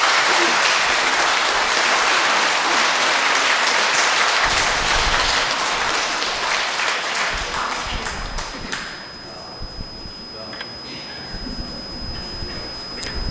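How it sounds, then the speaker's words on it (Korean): A congregation at Sunday Mass in a Catholic church applauds in celebration of a priest's 30th ordination anniversary, broad sustained clapping that fills the hall and slowly fades into scattered claps and shuffling. "다 같이 격려의 박수 다시 한번 보내주시기 바랍니다"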